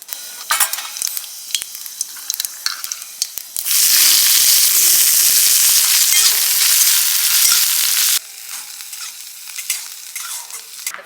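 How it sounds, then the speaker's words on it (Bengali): Panch phoron spices hit hot mustard oil for a crab curry, giving a loud, steady sizzle that flares abruptly and runs for several seconds between rattling clatter before and after. "সর্ষের তেল দিলাম পাঁচফোড়ন দিলাম"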